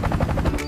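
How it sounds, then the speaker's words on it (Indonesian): A helicopter's rotor chops in a fast, steady rhythm for a brief moment, loud and close, with a droning engine underneath. "Ternyata ada sebuah helikopter."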